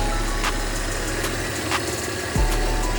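The 2.8 engine of an Audi A6 Quattro wagon, running on very old fuel, idles close by with a steady, smooth low hum and a faint rhythmic throb.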